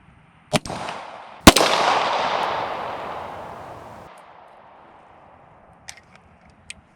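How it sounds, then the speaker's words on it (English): Two loud 10mm full metal jacket gunshots fired outdoors at an engine block, each a sharp crack followed by a long rolling echo that fades over several seconds, then a few faint clicks. "So we're stepping up to our 10 mil. Still shooting some full metal jackets."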